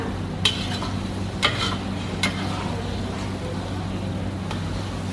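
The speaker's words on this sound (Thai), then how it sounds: "แล้วค่อยๆคนไปเรื่อยน้ำมันไม่ต้องกลัวนะคะ" Garlic deep-frying in a generous amount of oil, making a continuous bubbling sizzle broken by a few sharp clinks of a utensil against the pan as it is stirred steadily, heard close with no talk.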